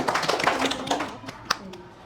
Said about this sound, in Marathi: या ठिकाणी टाळ्या वाजल्याच पाहिजे ना